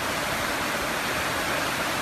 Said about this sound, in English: Wild winds, spectacular lightning and heavy rainfall were the results of a thunderstorm